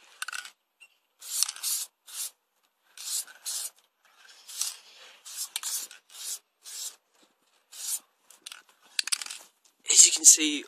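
An aerosol can of spray paint sprays an Xbox 360 controller outdoors in a series of short, sharp hissing bursts separated by brief pauses, with one longer, louder burst near the end.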